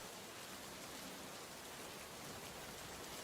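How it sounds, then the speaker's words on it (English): A steady hiss of rain falls continuously in the Run 8 train simulator game, even and soft, with no other sounds standing out. "It's raining."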